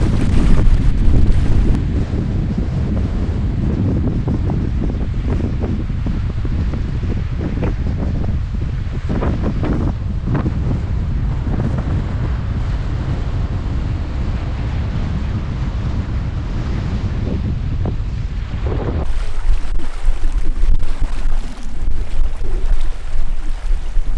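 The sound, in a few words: strong wind blowing on a lake during a canoe trip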